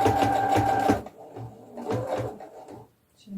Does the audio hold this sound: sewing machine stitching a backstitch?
yes